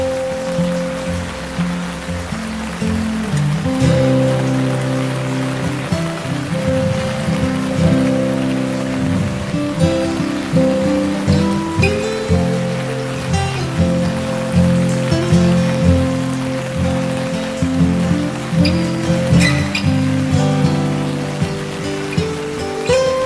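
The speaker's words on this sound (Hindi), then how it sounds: "तथापि वर्षा जोर लगी रही।" Heavy rain pours down steadily in a village, a dense, loud hiss of drops drumming on surfaces, continuous throughout with no voices.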